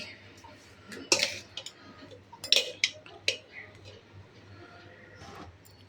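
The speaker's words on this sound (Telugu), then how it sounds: "మిక్స్ చేసుకుంటే మనకు బిర్యానీ రైస్ రెడీ" Aloo biryani rice mixed in a pot, giving a few sharp metallic clinks of a spoon against the vessel amid soft stirring rustle, up close, with a person talking at times.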